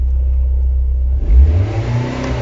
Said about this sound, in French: je vais tester un petit coup de gaz léger